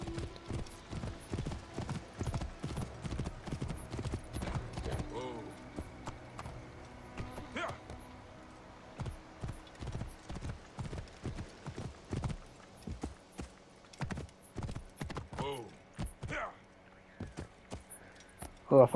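Horse hooves clip-clop steadily in Assassin's Creed Origins, a rhythmic run of hoofbeats over game music and effects, with a voice speaking now and then.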